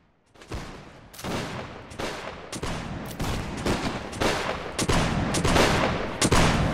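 A ragged musket volley in a video game line battle, many sharp cracks rippling from left to right in quick succession, loud and close, building into a sustained crackle of fire.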